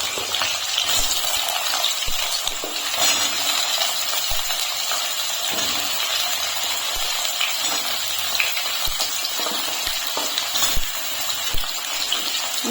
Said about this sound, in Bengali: এখন আমি এর ভিতরে দিয়ে দিচ্ছি আলু। সব সবজি একসঙ্গে দিয়ে দিচ্ছি